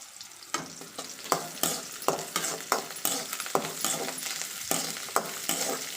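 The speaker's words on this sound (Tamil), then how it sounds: "சேர்த்து நல்லா வதக்கிக்கலாம் வெங்காயத்தை" Onions and a green chilli sauté in a pan for sambar under a close, constant sizzle. A spatula strikes and scrapes the pan in a brisk, regular rhythm, about two strokes a second. No one speaks.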